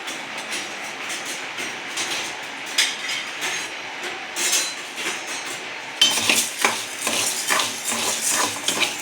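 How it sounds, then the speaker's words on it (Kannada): Horse gram roasting in a pan on a gas stove, a dry rattling and clinking of grains against metal that is stirred in irregular bursts and grows louder and busier near the end. "ಒಂದು ಅರ್ಧ ಕಪ್ಪಷ್ಟು ಹುರುಳಿಕಾಳು ಹುರ್ಕೊಳ್ಳೋಣ"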